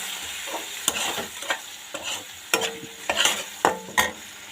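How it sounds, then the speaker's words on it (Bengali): Chilli paste and turmeric are stirred in a hot pan, giving a steady sizzle broken by a string of sharp spatula scrapes and clacks. "এটাকে দিয়ে এবার কিছুক্ষণ নেড়ে নেব।"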